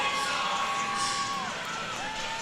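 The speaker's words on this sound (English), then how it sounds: "Crowd fired up." A crowd fills a college women's volleyball arena at a South Carolina versus Auburn match with a steady roar of cheering and a few higher whoops, carried along under a commentator's voice.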